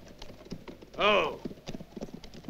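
Horses' hooves clip-clop on the ground in a spaghetti western scene, a loose uneven rhythm of soft thuds underneath people talking, with one louder, brief tonal cry partway through.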